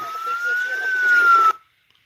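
A siren wails steadily for about a second and a half, loud and fairly close, then cuts off abruptly into silence.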